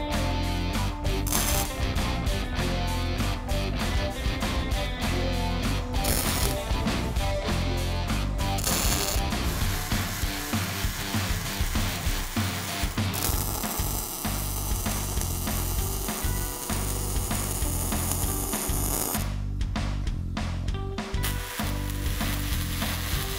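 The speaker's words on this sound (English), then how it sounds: "Now I'm going to go ahead and tack it into position." Crackling, sizzling arc from a Miller Multimatic 215 welder tacking steel for an outdoor fire pit, a steady hiss running nearly continuously with short breaks between tacks, close and loud.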